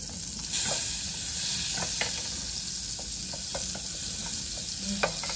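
Butter heating in a pan gives a continuous close sizzle and frying hiss, with occasional small pops and light stirring clicks.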